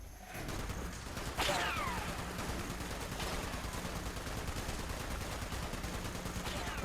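Gunfire in the Fallout 76 video game: a few sharp shots crack out over a dense, steady wash of game noise, with one louder shot early and fainter ones later.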